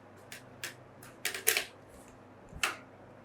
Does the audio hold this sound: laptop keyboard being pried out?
yes